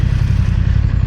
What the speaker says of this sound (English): Right, we're gonna have a loud exhaust.